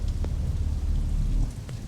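Heavy rain pours down with thunder, a dense low rumbling wash that stays loud and steady throughout, with no voices over it.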